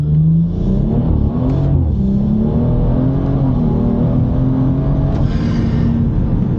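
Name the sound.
tuned car accelerating hard in second gear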